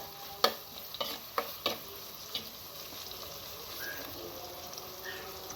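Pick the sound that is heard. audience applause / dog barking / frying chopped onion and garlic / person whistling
frying chopped onion and garlic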